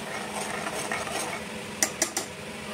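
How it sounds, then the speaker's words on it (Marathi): Spoon stirring a thick soya rajma masala gravy in a pan while the oil separates, a steady scraping texture broken by three sharp metallic clinks of utensil on pan near the end. "चांगलं आपण तेल सुटेपर्यंत त्याला छान असं"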